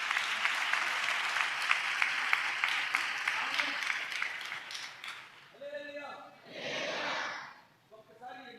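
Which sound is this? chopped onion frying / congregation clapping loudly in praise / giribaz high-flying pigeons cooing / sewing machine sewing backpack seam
congregation clapping loudly in praise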